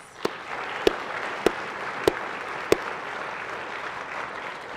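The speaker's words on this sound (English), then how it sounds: "can we give them a round of applause?" In a state Senate chamber, a round of applause honours visiting students, a soft, distant wash of clapping punctuated by five sharp, evenly spaced claps close by.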